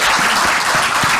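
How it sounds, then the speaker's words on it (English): Short burst of applause at the close of a conference session, steady dense clapping from an audience throughout. "If you'd like to join a round of applause"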